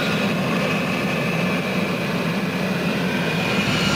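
An F-35 jet engine runs in a hover pit, a loud, continuous roaring whoosh with a steady high whine and no breaks, heard alone without talking.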